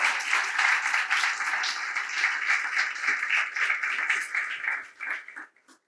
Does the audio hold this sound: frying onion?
no